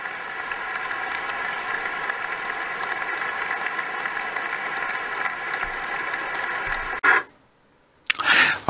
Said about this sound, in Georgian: აპლოდისმენტებით და ფეხზე ადგომით ხვდებიან ამ სიტყვებს